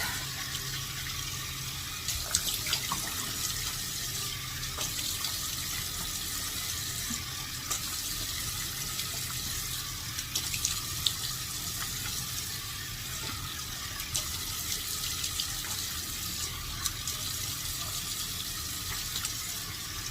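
Tap water runs steadily into a bathroom sink during a face rinse, a continuous close hiss with small splashy spikes throughout, no talking.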